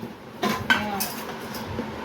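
Steel plates and bowls clink and clatter against one another, a few sharp metallic knocks close by in a quiet room, with a faint voice in the background.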